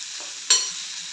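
Pointed gourd (parwal) being stirred in a pan, a soft steady sizzle with one sharp scrape of the spoon against the pan partway through and no voices.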